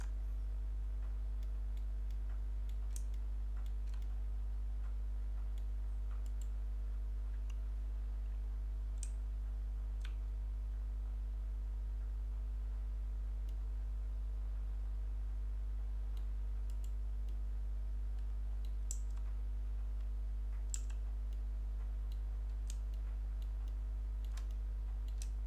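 Sparse computer keyboard taps and mouse clicks during Blender 3D work, faint irregular clicks spaced seconds apart over a steady low electrical hum, with no talk.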